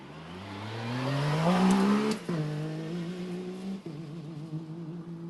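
A Yamaha YXZ T3 rally car engine revs upward in a rising whine, then shifts with sharp breaks and settles into a steady, loud drone, close by and alone.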